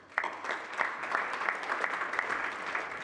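Audience applause at a Scottish Government conference session, steady sustained clapping from a room full of people that carries evenly through without talk.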